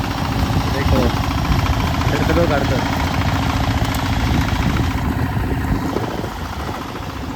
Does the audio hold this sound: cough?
no